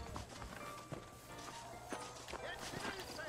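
Horse hooves clip-clop in Red Dead Redemption in a quick, steady rhythm of soft knocks at a running pace. Someone talks over them throughout.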